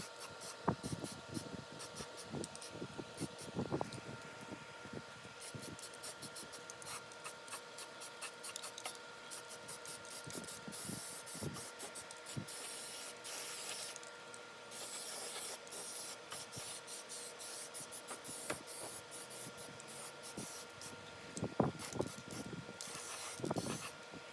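Spray paint hissing from a can onto a rusty one-year-old outdoor grill, in repeated short bursts with clicks and rattles of the can between them, fairly faint and close, no talk.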